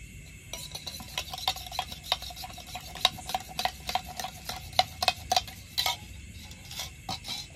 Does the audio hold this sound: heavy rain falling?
no